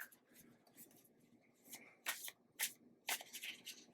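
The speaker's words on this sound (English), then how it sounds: "Want to shuffle those up real good." Oracle cards riffled and shuffled by hand at close range, a series of crisp papery bursts and flutters, quiet between shuffles, with no talk.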